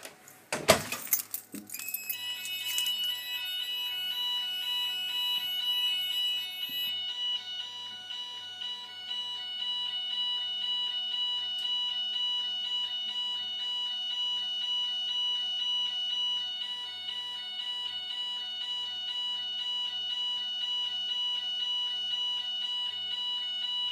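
A Voice S-Quad fire alarm sounder emits a steady, continuous high electronic tone that holds unbroken for over twenty seconds after a brief clattering jangle at the start.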